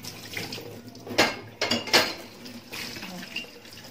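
Cups and dishes are washed at a kitchen sink, with water running and a few sharp clinks of crockery against each other, fairly close by.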